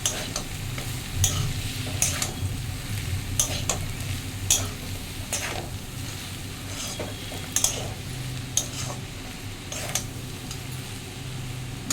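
Grated coconut is stirred into frying snake gourd, with a steady sizzle under repeated rhythmic scrapes and taps of a spatula on the pan.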